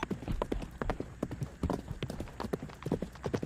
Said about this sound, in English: only a solitary nightbird's cry, lonely and mournful, disturbed the steady pounding of hooves